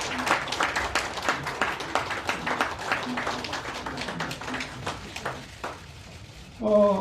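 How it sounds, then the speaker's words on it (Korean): An audience at a Korean lecture on the Four Rivers project claps to welcome a minister, steady moderate applause that slowly thins over about six seconds, with a voice briefly speaking at the end. "우리 박수로 한번 환영해 주시기 바랍니다"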